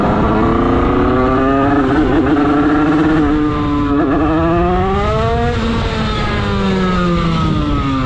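A Derbi motorcycle with a 96cc Bidalot engine revs hard and loud close up, its buzzy two-stroke whine rising and falling as it accelerates through gears while riding.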